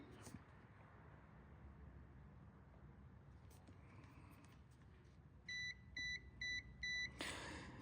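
A multimeter set to continuity gives four short, clear electronic beeps in quick succession while probing a diode in a battery charger, following quiet room noise with faint handling sounds.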